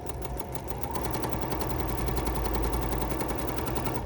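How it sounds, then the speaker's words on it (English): Bernina sewing machine with a binder attachment stitching bias strip, a fast, steady mechanical rattle of the needle running close and continuous throughout. "step 1 is to simply start stitching"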